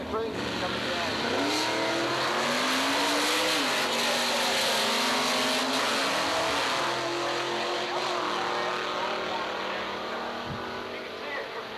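Drag racing cars launch side by side down the strip at a practice session, engines roaring loud and close, pitch climbing through gears in one sustained howl while a commentator talks over it.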